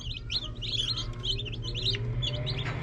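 Newly hatched chicks peep in rapid, repeated high chirps close by, a busy overlapping chorus over a low hum, with no talking.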